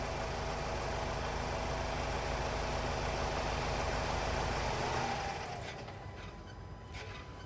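A Ford Transit Custom 2.0 EcoBlue van's diesel engine idles with a steady low rumble, then cuts out and the sound drops to a quieter background hum.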